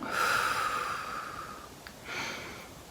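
Breathing during an eye exercise: a long, audible nasal inhale followed after a short pause by a second, softer breath, close and clear with no talking.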